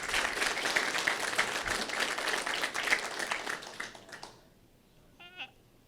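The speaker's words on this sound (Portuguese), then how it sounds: "vamos bater palmas aí" An audience at a university lecture event applauds, dense steady clapping that tapers and stops after about four seconds, followed by near silence and a brief voice.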